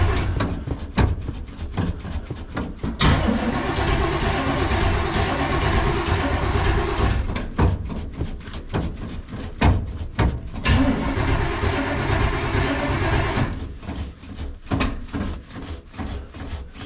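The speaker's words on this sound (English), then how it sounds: "this motor has a new choke, so with any luck, she'll start." A 1937 Ford pickup engine with a new choke cranks and tries to start, a loud rough mechanical churning with uneven bursts and brief gaps, heard close up.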